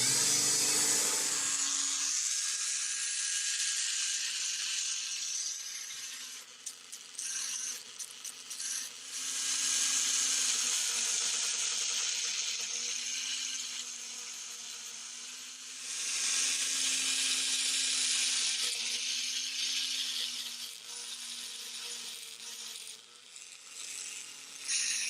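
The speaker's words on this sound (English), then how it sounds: "using a small brass brush on the end of a Dremel tool, I'm going to try to clean that up" A Dremel rotary tool fitted with a small brass wire brush scrubs a fuel tap shut-off valve at low speed, a soft steady whir with scratchy brushing that swells and eases as it works, no talking.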